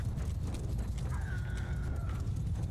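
Cavalry horses charging in Mount & Blade II: Bannerlord, a faint rumble of many hooves with a short shrill neigh in the middle, low in level and alone.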